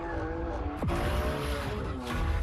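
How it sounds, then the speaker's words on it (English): A high-performance race car at the 2018 Indy 500 roars loudly and continuously at the limit, engine pitch sweeping down sharply as it passes close by, then a second pitch drop as another car follows. "high-performance car like this,"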